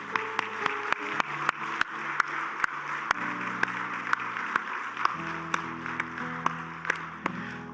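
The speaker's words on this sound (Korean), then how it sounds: "큰 격려의 박수" A church congregation claps in encouragement with steady, evenly spaced claps that keep a beat over sustained keyboard chords, moderately quiet and continuing throughout.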